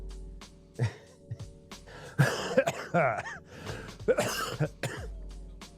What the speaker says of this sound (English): Healthy cough